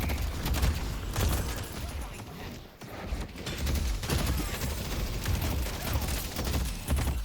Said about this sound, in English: I'm getting shot like a freaking mother trucker, dude.